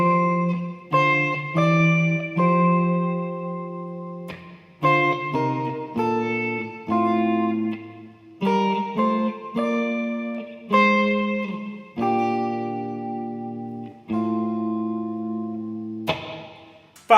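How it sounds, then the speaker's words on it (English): Electric guitar played through a Bob Burt reverb pedal: picked chords and single notes ring out in phrases with a spacious reverb tail, close and clear over about seventeen seconds, with no talking. "And with that reverb in."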